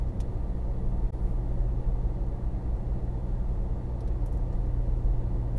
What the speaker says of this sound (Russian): просто шум в машине, услышали.